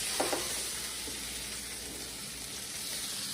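Salmon and shrimp sizzle steadily in a hot pan, a close, constant frying hiss with a brief stir or shift near the start and no talking.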